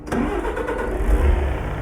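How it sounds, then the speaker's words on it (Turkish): A Ford F-Max truck engine cranks and fires up in Euro Truck Simulator 2, then settles straight into a steady, loud diesel rumble that holds throughout, with no talking. "Kontağımızı açalım. Vites boşta. Haydi bismillah marşımızı yapalım."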